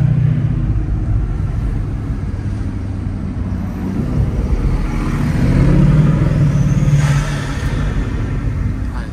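Bugatti Chiron pulling hard under acceleration as its turbos come in, a deep continuous engine rumble that swells and holds, heard from inside the car.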